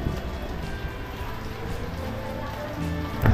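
Steady rain patters and hisses on surfaces nearby, a soft continuous wash with faint scattered drops, with a brief knock near the end.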